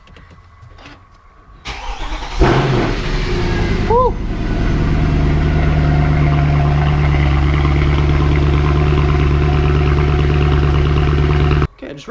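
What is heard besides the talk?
car engine cold start and idling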